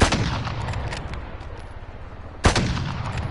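Gunfire in Call of Duty Warzone comes as two loud, close bursts: one at the start that trails into rumbling echo, and a second sharp shot later.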